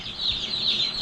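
Freedom Ranger chicks in a brooder peep and cheep steadily, a dense chorus of many young birds holding close and fairly loud throughout with no pauses.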